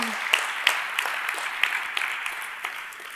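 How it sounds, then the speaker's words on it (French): An audience claps steadily at a mock trial event, a dense even applause with occasional louder individual claps, held at moderate volume throughout. "je vous demande d'applaudir Maître Claire-Emmanuelle Moreau."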